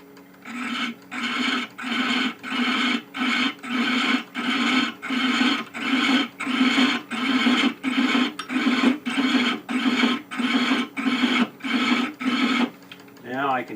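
A metal lathe cuts with a beading and parting tool in repeated rasping strokes, about two per second, loud and close with a steady rhythmic scraping pulse.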